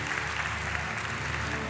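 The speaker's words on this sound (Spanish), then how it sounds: "Vamos a darle un fuerte aplauso a Risto mientras se acerca" A television talent show audience applauds for Risto as he walks up during a magic act, a steady, fairly soft wash of clapping throughout.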